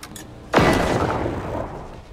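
Robot firing its guns in the video game Generation Zero: one loud, sharp blast followed by a long rumbling, ringing tail, with a few faint shots just before.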